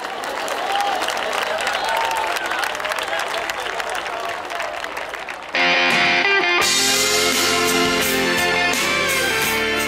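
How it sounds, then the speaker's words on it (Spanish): An audience at a neighbourhood talent show applauds loudly and continuously, and after about five seconds a backing music track starts on stage and plays on over the clapping. "Fort l'aplaudiment."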